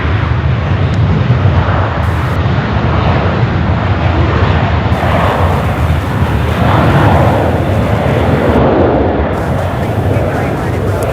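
A fixed-wing airplane at Charlotte Douglas airport roars steadily from farther back off the runway, a loud, continuous broadband engine rumble that never lets up, with voices now and then under it.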